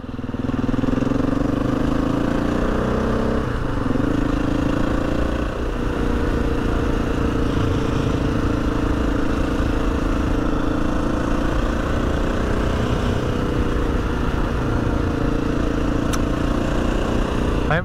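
Husqvarna FE 350 motorcycle engine running steadily nearby: a loud, unbroken mid-pitched drone with slight revving swells, heard outdoors for the whole stretch.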